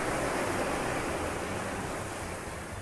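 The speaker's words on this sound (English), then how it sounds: "The moon is bright, lighting up the calm waves spilling onto the shore" Calm ocean waves spill onto a beach at night, a steady, dense wash of surf noise with no distinct breaks, close and fairly loud throughout.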